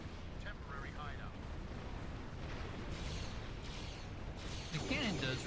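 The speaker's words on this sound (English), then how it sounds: "the cannons take over. It just nukes them." Cannon fire in a space battle video game, heavy guns pounding enemy ships in a steady explosive rumble with sharper bursts near the end, set under constant game noise.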